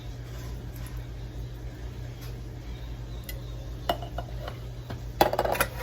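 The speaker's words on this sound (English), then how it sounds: "Let's give these a good mix in the butter, because we want them to be coated with butter" Sweet potatoes stirred into melted butter in a pot on a kitchen stove, with soft scraping and a few sharp utensil clinks against the pot near the end over a steady low hum.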